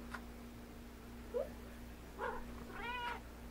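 A pet cat gives a few soft, short meows and a brief chirp, faint and close, in a quiet indoor room with no talk.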